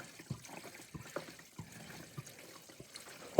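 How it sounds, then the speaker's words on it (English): Water drains and trickles out of a Subaru Sambar engine in a light, irregular dribble with small splashes, fairly close, ending in a sudden louder clunk. "That's a lot of water. A lot of water."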